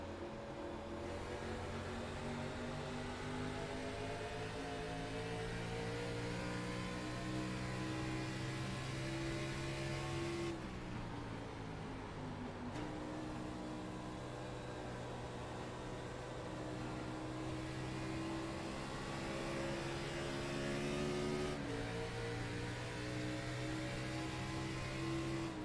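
Race car engine in a stock-car racing game at Phoenix, held at high revs in third gear, a steady loud droning tone with two brief dips where the pitch drops and climbs back, no talk.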